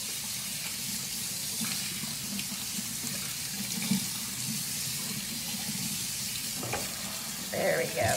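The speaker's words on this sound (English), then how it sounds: "you can hear my sink. I'm rinsing the rice for real." Steady running water splashes into a sink as rice is rinsed, with faint rinsing and stirring noises, close by and without talk.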